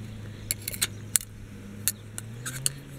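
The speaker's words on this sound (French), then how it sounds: "faut être capable d'ouvrir son couteau à une main" A folding pocket knife is flicked open and snapped shut with one hand, giving several sharp metallic clicks over a low steady hum, close up.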